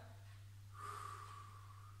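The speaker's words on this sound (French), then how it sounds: "une respiration normale" A single calm breath during a back-strengthening exercise routine, faint and close, a soft airy exhale rising briefly over a steady low hum.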